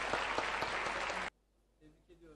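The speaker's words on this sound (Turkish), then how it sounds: "Hep birlikte alkışlayarak tebrik ediyoruz onları." Audience applause congratulating young students at a Turkish award ceremony, loud sustained clapping that cuts off abruptly halfway, followed by faint talking.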